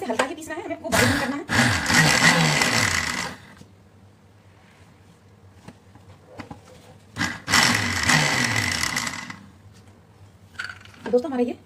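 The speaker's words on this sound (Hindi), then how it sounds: "ये मूंग को हल्का सा हम मिक्सी में पीस लेंगे।" A mixer grinder whirs, coarsely grinding moong lentils, in two loud bursts of a few seconds each, separated by a quieter pause with faint clinks and a brief voice.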